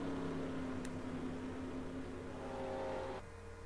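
Stock race cars roar around a simulated Auto Club oval in a racing video game: a steady, loud engine drone with a sustained pitch holds for about three seconds, then drops away sharply.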